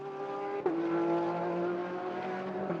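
A Porsche race car lapping the track in pre-qualifying for the Kyalami 9 Hour, its engine a sustained steady tone with a brief gear-change blip, heard at moderate distance alone.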